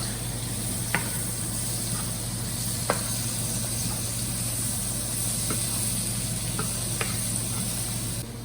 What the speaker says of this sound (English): I'm just going to stir those round so they get the lovely spices all over it.